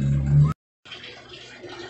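A washing machine fills with water while being tested after a control board repair, a soft rushing flow heard close, briefly cut to silence, then resuming steadily.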